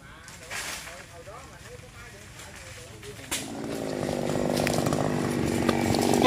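A chainsaw cuts at the base of a bamboo stalk, its engine rising and growing louder over the final seconds while people talk nearby.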